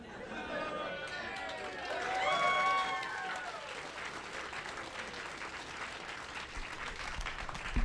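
Live podcast audience applauding and cheering, a broad crowd clapping with some whoops rising early on and tapering into scattered clapping and chatter.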